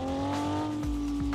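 Modified race car with a turbo, idling loud and close with a steady engine drone, then two or three deep low thumps and pops from gear changes near the end.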